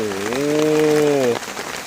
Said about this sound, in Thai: วันนี้เราเจอฝนอีกแล้วนะครับ